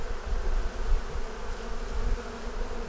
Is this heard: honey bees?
yes